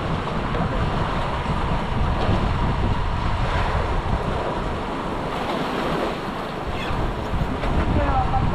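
Ocean waves and wind at sea on a Pacific voyage beside a mother boat, a continuous loud roar of surf and rushing wind buffeting the microphone, with voices faintly talking underneath.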